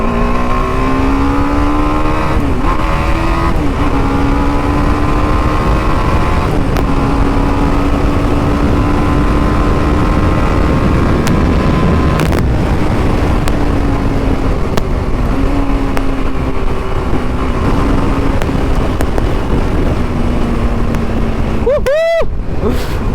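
A TVS Apache RR 310 motorcycle accelerates hard on a road in first gear, with a loud, continuous engine drone climbing in pitch through several gear changes. Wind rushes steadily beneath it, and a brief sharp rising whine comes near the end.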